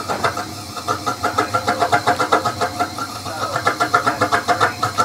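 Waste oil heater burner fitted with a syphon nozzle warming up, a steady roaring drone with a rapid, regular pulsing throb that grows more pronounced over the few seconds.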